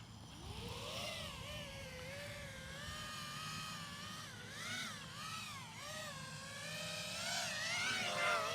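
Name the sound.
drone hovering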